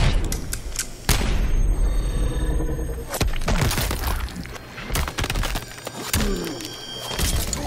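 Erron Black's X-ray move in Mortal Kombat X (video game) plays out in loud bursts: gunshot booms, cracking bone impacts and shattering hits with ringing tones, arriving in several sharp spaced blasts.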